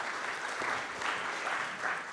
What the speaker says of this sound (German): auch ein Applaus für ihn